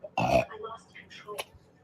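A man lets out a short, loud burp at a restaurant table over a plate of stuffed crazy bread with marinara, followed by quieter mouth sounds and brief talk.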